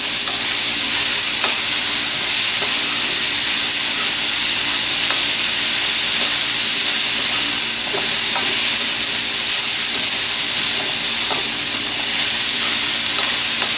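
A vegan stir-fry seasoned with Vegeta sizzling loudly in a wok, a constant bright hiss with occasional soft scraping from stirring, close up and without voices.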